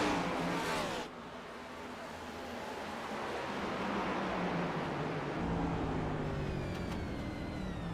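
Onboard engine of the number 37 Next Gen Cup stock car at Sonoma Raceway, a steady loud roar with rising and falling revs after a brief louder burst at the start, no voices.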